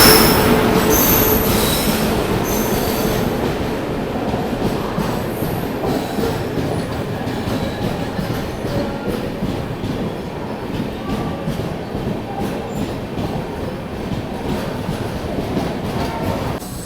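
Janmabhoomi SF Express rolling slowly into Tadepalligudem station, wheels squealing loudly against the rails over a rumbling, clattering bed of railcar noise that gradually eases.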